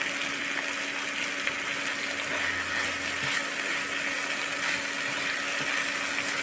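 Egg with carrot and tomato frying in a pan, a steady continuous sizzle and hiss held close throughout, with no voices over it.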